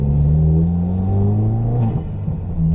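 A turbocharged 2015 Subaru WRX engine with an aftermarket intake revs up hard and loud in second gear, its pitch climbing steadily, then dips briefly as if shifting before pulling again; no talking.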